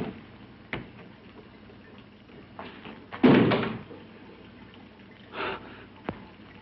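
A few heavy thuds and bangs from behind a door in a 1962 horror film scene, spaced irregularly with one louder, longer pounding burst in the middle, over a quiet background.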